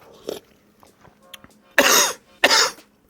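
Two harsh, close coughs burst out one after the other while a person eats spicy instant ramen, preceded by quieter throat sounds and small movements.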